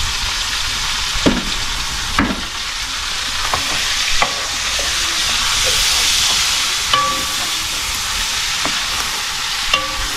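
Steady sizzling of food sautéing in a pan on a wood-fired stove, with occasional stirring clinks and scrapes throughout, close and fairly loud.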